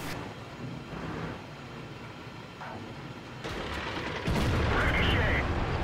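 Tank cannon fire in World of Tanks, heavy tank WZ111 battle, with a loud broadband blast arriving midway and a heavier boom near the end over rumbling engine and game ambience.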